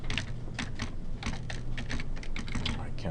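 Rapid typing on a computer keyboard, close and steady, with clustered key clicks running throughout and no speech over them.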